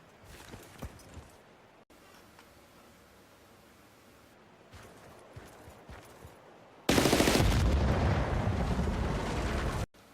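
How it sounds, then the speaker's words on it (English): Tanks are blown up in the Battlefield Bad Company 2 video game, with scattered gunfire and bangs at first, then a loud roaring burst of explosions lasting about three seconds before it cuts off. "I'll start by blowing these tanks."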